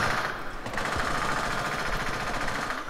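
Sustained, dense gunfire from a shooting video game, a steady rattling barrage that fills the whole stretch at fairly close range with no pause or talk over it.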